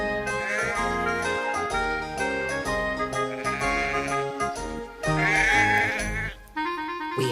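Sheep bleat repeatedly over a busy musical backing, several wavering calls rising clearly above the music.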